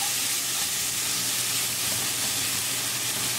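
Tomatoes and ground bison sizzle in a covered pan just opened, a constant close broadband hiss with a low steady hum beneath and faint stirring scrapes, no voices.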